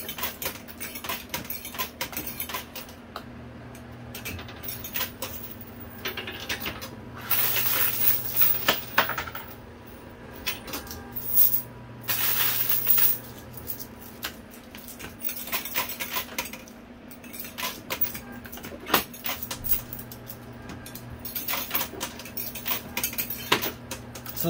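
Stacked coin towers in a casino coin pusher machine topple and clatter, with metallic jingling bursts scattered over a steady mechanical hum, some louder cascades and quieter pattering between, no voices.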